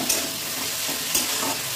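A Bengali home-style sauté of spices with ginger-cumin paste, frying continuously in a pan with a gentle hiss and occasional louder stir-scrapes, close and unbroken, with no one talking.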